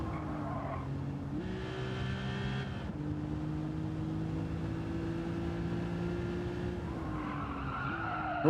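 Race car tyres skid and squeal under braking in Gran Turismo 7 over a steady engine drone, with pitch shifts as the car brakes and the revs change across several seconds.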